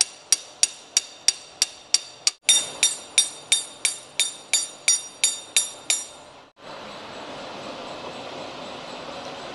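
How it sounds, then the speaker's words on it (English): A small hammer strikes a long brass drift to knock out worn engine rocker shafts, ringing metallic taps in a steady series of about eighteen close, loud blows, pausing briefly midway, then giving way to a low steady hum. "I'm just going to start knocking out old rocker shafts."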